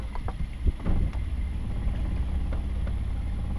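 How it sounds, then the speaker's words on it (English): A Woods Gypsy catamaran motoring forward under its engine at the end of the sailing season, a steady low throbbing drone close by with a few knocks early on, no voices. "I'll take it forward on the engine now."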